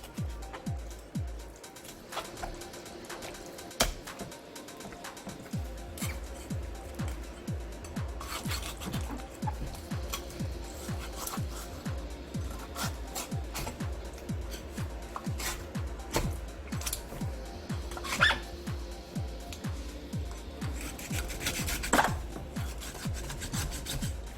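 Repeated rough rasping strokes of a knife cutting through bluefin tuna flesh and bone, steady rhythmic cutting close by with some clatter, no talk.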